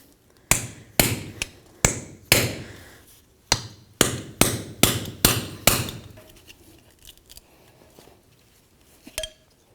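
A hammer strikes metal about eleven times in an uneven rhythm, knocking a seal free from the rear hub of a 1999-2007 Ford Super Duty F-250, each blow sharp and ringing, close up, then quiet with one faint final tap.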